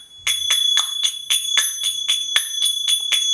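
High-pitched bells used in space clearing ring in a steady run of about nine bright, shimmering strikes, each chime clear and close with a long ringing overtone.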